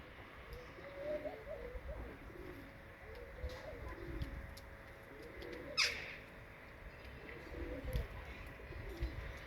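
Çorum Çıplağı game pigeons cooing, several soft rolling coos repeating every couple of seconds at a moderate distance, with a faint background hiss and one brief sharp noise in the middle.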